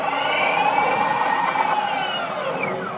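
A homemade electric longboard's motor whines steadily under trigger control, a high, tonal electric hum with shifting pitch that swells and eases slightly over a few seconds.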